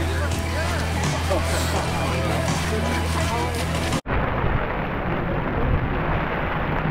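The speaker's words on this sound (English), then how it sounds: "It is bucketing down right now." Heavy rain pours down outdoors before a marathon on the Gold Coast, a loud steady wash of noise that cuts off briefly and then carries on just as dense.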